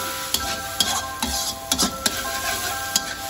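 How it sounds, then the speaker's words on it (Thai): Pad see ew noodles with pork and egg being stir-fried in a large pan, with steady sizzling and repeated scraping, clanking strokes of the spatula roughly every half second, close and loud. "มาผัดมาคนนะคะ"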